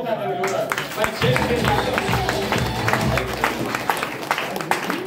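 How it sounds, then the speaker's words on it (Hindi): An audience at a motivational talk claps enthusiastically, a crowd's loud, uneven applause with sharp individual claps and murmuring voices throughout, continuing for several seconds. "वाह, ताली मारिए।"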